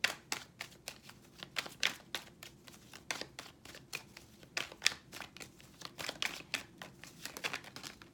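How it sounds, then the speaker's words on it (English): Tarot cards are shuffled by hand in quick irregular bursts of crisp slapping and riffling, close and fairly quiet, with no voices. "Let's keep shuffling"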